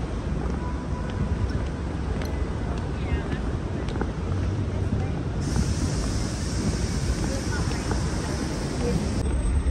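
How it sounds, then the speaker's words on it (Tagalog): Wind blowing across the Brooklyn Bridge in New York City on an autumn day, a steady broadband rush with buffeting against the microphone and a faint hiss of traffic, continuous and fairly loud throughout. "Medyo mahangin siya, medyo windy siya."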